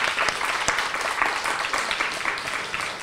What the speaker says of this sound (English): let's give them another round of applause before they go